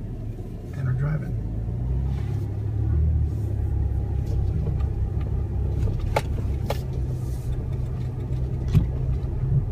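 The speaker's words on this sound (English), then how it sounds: "let it flash, it's in 4 high, and we're driving." A 2015 Chevy Colorado pickup truck driving in four-wheel high, its engine and road noise a steady low rumble throughout, with people talking over it.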